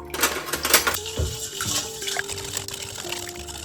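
Filtered water pours into a container while salted food is prepared, a steady splashing fill with a rising gurgling pitch, close and fairly loud, with a few clinks at the start and no talk.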